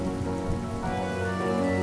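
Steady, dense rainfall pours down and patters on surfaces in a Honkai: Star Rail scene, a continuous, even wash of sound with no voices.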